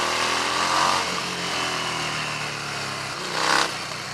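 A Harley-Davidson Street 750 V-twin motorcycle engine runs while being ridden, a steady raspy drone with a couple of brief swells in revs, close and fairly loud under wind noise, with no speech.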